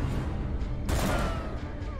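Gunshot in the dark fantasy video game Darkest Dungeon, a single loud blast about midway that rings out over a dense layer of game music and ambient rumble.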